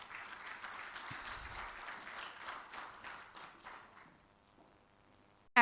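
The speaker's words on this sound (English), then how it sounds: "Please, could we give her a round of applause?" Audience at a corporate livestreamed event offers quiet, somewhat distant applause, a patter of clapping that fades out after about four seconds into near silence before a sudden loud sound at the very end.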